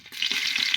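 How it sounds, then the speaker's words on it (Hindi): Chopped onions frying in hot oil in a pan for chicken biryani, a close, steady hiss and sizzle with faint stirring scrapes underneath. "प्याज को पकईदे"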